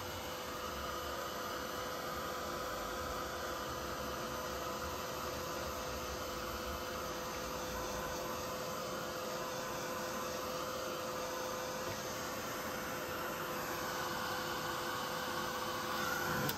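Heat drying tool blowing air over ink on a card, a steady, continuous whooshing drone held evenly throughout, close and fairly loud with no voices.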